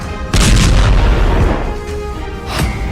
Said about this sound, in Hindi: धमाके का दूसरा वीडियो